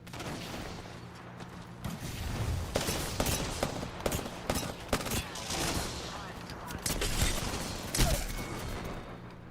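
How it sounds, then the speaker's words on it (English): Several players' gunfire in a competitive Apex Legends match: dense, overlapping bursts of rapid shots and mechanical clatter continue loudly for about nine seconds, with mid-game voice and chat faintly in the mix. "Okay, 5 people shooting at me."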